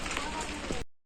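Rain falls steadily as a dense hiss during a village fair, with a voice faintly heard, cutting off abruptly after under a second.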